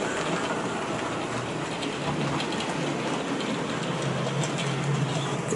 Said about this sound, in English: These are all Bachmann locos today. All running. With mainline stock.